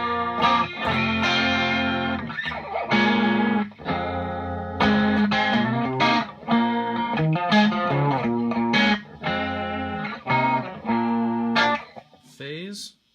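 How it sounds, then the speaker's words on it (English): Electric guitar played through a Line 6 Spider Valve amp with a chorus effect, a run of strummed and picked chords that shimmer and swirl, loud and close with short gaps between phrases and no talking. "The chorus end of that sounds like this."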